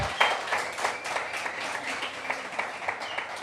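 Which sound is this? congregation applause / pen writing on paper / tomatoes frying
congregation applause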